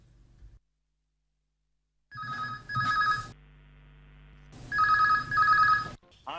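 A telephone rings for a radio phone-in call on an Akashvani Akola programme: two distinct bursts of bright double ringing separated by a quiet pause, with a soft hum between them.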